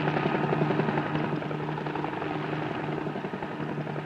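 A helicopter flying slowly over countryside, its steady rotor and engine drone holding at an even loudness throughout, close and continuous with no talk.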